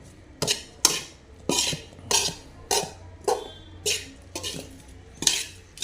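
A metal spoon stirs a rice puttu mixture inside a metal vessel, producing regular, sharp scraping clinks about once a second, close and alone with no talk.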